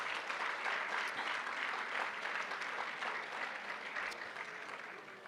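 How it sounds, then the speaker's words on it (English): Sustained applause from an indoor audience at a College of Education credential ceremony, a dense wash of clapping that holds steady and then slowly fades toward the end. "Let's give our parents another big round of applause."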